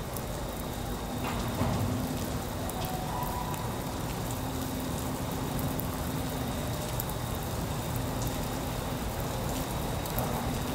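Steady rain falls over Sydney Harbour near the entrance where the cruise ship Disney Wonder passes, a constant broadband patter with a faint low hum beneath, continuous and fairly loud.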